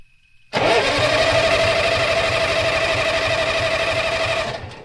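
A Perkins 4.108 diesel engine cranks over without firing: the starter churns in a steady rapid chug after a brief quiet start, loud and close for about four seconds before winding down.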